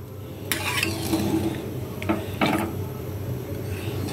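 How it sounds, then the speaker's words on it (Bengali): Mutton curry stirred in a kadai after moving it from a pressure cooker, with a few distinct scrapes and clinks of utensil against metal over a soft sizzling background. "দেখো এবার প্রেশার থেকে আমি কড়াইয়ে পুরো ট্রান্সফার করে দিচ্ছি।"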